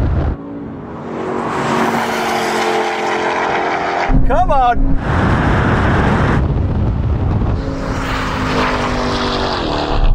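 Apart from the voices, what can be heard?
Porsche 718 Cayman launching in a drag race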